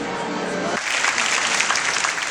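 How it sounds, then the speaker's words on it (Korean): Audience applause breaking out at the start of a classical music concert, a dense wash of clapping that swells after a brief tonal opening and holds steady and loud. "드디어 박수 소리와 함께 생애 첫 클래식 공연이 시작된다."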